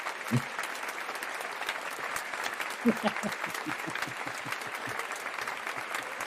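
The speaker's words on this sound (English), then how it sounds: "It's like that awkward amount of clapping at like a conference or like a meeting" Sparse, modest applause like a small conference or meeting crowd, a steady patter of scattered hand claps with a few louder claps standing out, continuing throughout without voices.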